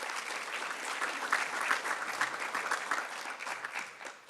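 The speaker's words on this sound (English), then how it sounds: "So give yourselves a round of applause" Thick, continuous applause from the audience at a community foundation's annual meeting, with many hands clapping at once and holding steady throughout, close and fairly loud.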